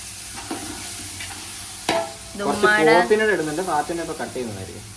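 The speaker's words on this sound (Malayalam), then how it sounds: "വഴണ്ട് കഴിഞ്ഞ ശേഷം നമ്മൾ ഇനി അടുത്ത് ചിക്കൻ ഇടാൻ പോവുകയാണ്." Chicken pieces go into a hot pan for biryani and start frying, a sharp clatter followed by a loud rising sizzle with stirring, close up, while a voice talks faintly in the background.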